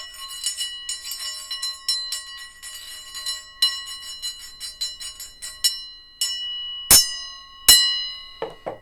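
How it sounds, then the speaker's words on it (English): A steel metal disc struck repeatedly gives bright, high, bell-like pings close to a triangle, a quick rhythmic run of light taps followed by two louder, ringing strikes that decay alone. "it's just a metal steel disc. But it sounds almost like a triangle"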